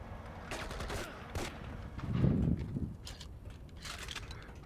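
Gunfire from a basement fight in the video game IGI 1 comes through as a sequence of rapid shots with lower thuds and some clatter mixed in, at moderate volume and without speech.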